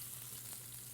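Pork chops frying in oil in a big skillet, a quiet, even, continuous sizzle with no talking.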